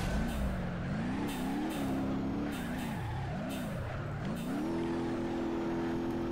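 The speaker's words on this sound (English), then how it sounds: "What are we in, a drift car? Oh, this thing goes. Pulls hard." A drift car in BeamNG.drive pulls hard, its engine note climbing, dipping and surging again through gear changes and throttle lifts, loud and steady throughout with no talk.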